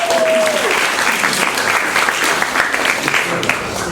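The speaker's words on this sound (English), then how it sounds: "Let's give her a round of applause." Audience at a university lo-fi mixtape premiere night claps in a loud, dense round of applause throughout, with a brief voice at the start.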